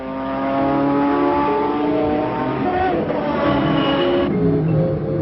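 A car engine accelerates, its loud, rising, harmonic-rich engine note climbing steadily over several seconds with no voices over it.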